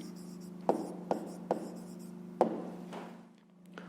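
A pen writes an answer by hand on paper in short, close scratching strokes, with several distinct taps and scribbles spaced across a few seconds.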